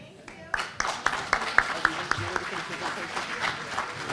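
An audience at a school board of education meeting applauds scholars returning to their seats, a series of sharp claps rising to a steady round of clapping, with a voice talking over it.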